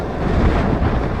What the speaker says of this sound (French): Vous voyez là on a des rafales